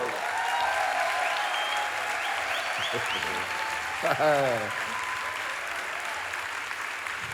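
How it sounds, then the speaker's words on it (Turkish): At the Istanbul Film Festival opening ceremony, an audience claps steadily through a broad, continuous burst, with a brief voice and some background tones breaking through midway as the festival director comes on stage. "şimdi alkışlarla sahneye İstanbul Film Festivali direktörü Sayın Kerem Ayan geliyor."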